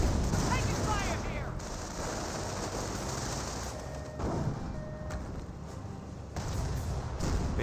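Dense, continuous gunfire and scattered thuds of a Company of Heroes 1 real-time strategy battle between US and Panzer Elite forces, rattling steadily at mid distance with a few louder bursts, mixed with faint voice chatter.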